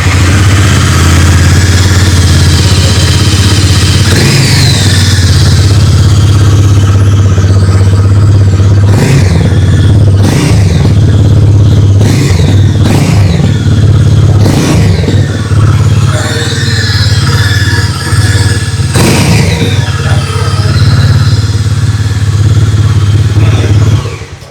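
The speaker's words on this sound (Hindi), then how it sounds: "आइए अब सुन लेते हैं इस बाइक की एग्जॉस्ट नोट।" A 2025 Harley Davidson X440 Mid Vivid motorcycle idles loud and close with a deep, bassy exhaust note, revved several times in short bursts above a steady rumble and heard alone.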